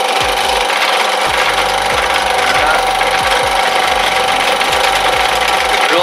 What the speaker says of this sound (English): Try a bigger drill, more grip.